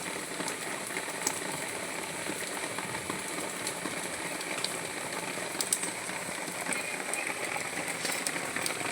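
Steady rain patters on surfaces all around, a dense even hiss with scattered louder drops and no voices.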